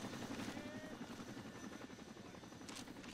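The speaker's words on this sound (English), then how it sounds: "Get away from the chopper!" A helicopter's rotors beat in a steady, continuous throb that stays fairly faint and unchanging throughout.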